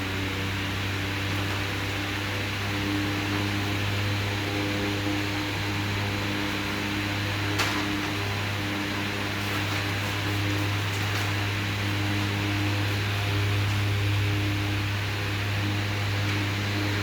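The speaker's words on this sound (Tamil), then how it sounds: "இதை ஆன் பண்ணி எவ்வளோ ஸ்பீடு சுற்றுதுன்னு காமிக்கிறேன்" A Khaitan Magma 400 three-speed pedestal fan runs with a constant airy whoosh over a steady low motor hum, unchanging for the whole stretch.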